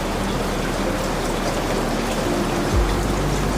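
Steady rain falls during a train journey through the Canadian Rockies, a dense, even hiss of drops close by with a low rumble underneath and a brief deeper thump near the end.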